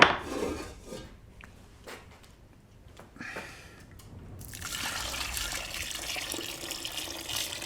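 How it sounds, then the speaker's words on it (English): A gallon of boiling water poured for nettle wine, splashing and trickling steadily into a vessel, growing into a loud, continuous rushing pour in the second half after quieter drips and clinks. "So this is a gallon of boiling water."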